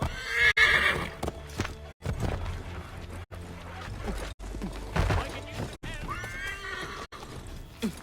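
A horse in the video game Assassin's Creed 3 whinnies loudly near the start, followed by clopping hooves and scattered thuds, with another fainter neigh later. The sound is cut by brief silent gaps throughout.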